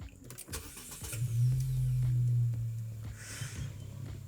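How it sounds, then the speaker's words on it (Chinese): A 2025 MG5 sedan, the Malaysian version, cranks and fires up about a second in. It settles into a brief, moderately loud idle hum before fading, with no talking. "上车，启动引擎。"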